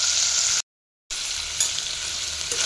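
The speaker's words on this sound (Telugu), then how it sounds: "ఇవన్నీ తాలింపుల్లో కొంచెం సేపు మగ్గనివ్వాలండి." Tempering spices fry and sizzle in hot oil for a bottle gourd curry cooked in a pressure cooker, a steady close crackle that cuts out briefly and then resumes.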